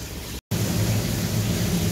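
Battered chicken pieces frying in hot oil, a dense, steady roar of sizzling bubbles close up, broken by one brief silent gap.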